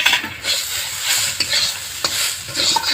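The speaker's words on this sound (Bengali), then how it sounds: "এটাও আমি হালকা ফ্রাই করে নেব।" Spices with turmeric and salt lightly frying in a pan, giving a loud, close hissing sizzle with occasional stirring clicks throughout.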